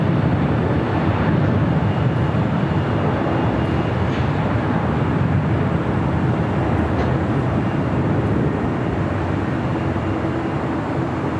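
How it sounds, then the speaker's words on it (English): A Korean Air airliner takes off from runway 25 left at LAX, a loud continuous broadband jet roar that stays steady and powerful throughout. "Korean Air already cleared for takeoff."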